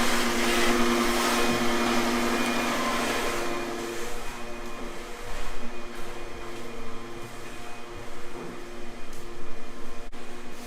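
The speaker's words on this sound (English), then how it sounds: "I like to vacuum out the bottom plates around where the plate meets the floor" A steady mechanical whine of a vacuum cleaner running continuously, fairly close, cleaning along wall bottom plates at the floor, with some rougher fluctuation in the second half.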